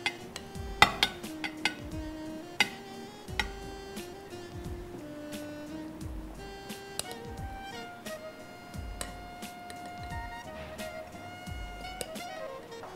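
Kitchen dish sounds as pasta and broccoli salad is tipped into a serving dish: scattered clinks and taps of utensils against a plate, moderately close, with soft scraping between, no voices.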